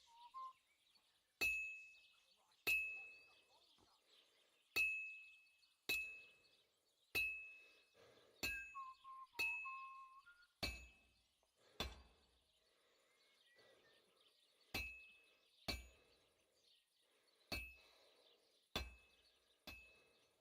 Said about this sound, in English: I have to hammer it more evenly.